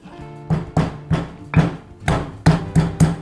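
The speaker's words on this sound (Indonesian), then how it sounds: "Kunyitnya ditumbuk sampai halus." Turmeric is pounded fine in a mortar: about eight sharp, heavy thuds land in a loose, uneven rhythm, each one close and distinct with brief gaps between.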